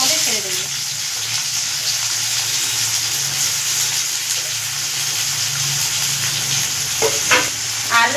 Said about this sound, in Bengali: ঝিরিঝিরি করে পেঁয়াজটা তেলের মধ্যে ছেড়ে দেবো।